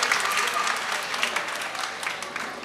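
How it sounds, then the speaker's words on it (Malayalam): Audience applause at a 2024 family reunion gathering, a dense, steady clatter of many hands clapping throughout, fairly close and loud with no pauses. "ഒരു നിറഞ്ഞ കയ്യടി കൊടുക്കണമെന്ന്"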